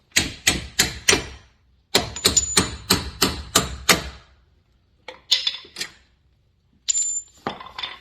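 Bolts come off during an axle seal replacement on a vehicle, heard as two quick runs of sharp, close clicks followed by a few scattered metallic clinks and taps with short silences between them.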